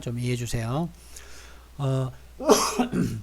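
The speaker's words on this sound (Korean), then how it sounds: "제가 중간중간에 이게 기침이 좀 나오려고 하는데" A speaker in a courtroom trial session gives a sharp, throat-clearing cough just after a short spoken phrase, close and loud, set among brief bursts of talk.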